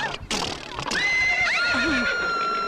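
A horse lets out a loud, close neigh, a high wavering whinny that dips and trails off, with a brief thump or hoof sound just before it.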